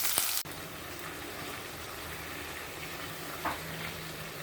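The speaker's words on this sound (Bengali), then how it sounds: "এখানে 3টে মিডিয়াম সাইজের পেঁয়াজ ভাজব।" Three medium-sized onions frying in a pan give a steady, fairly quiet hiss with no talk over it, after a brief sharp sound right at the start.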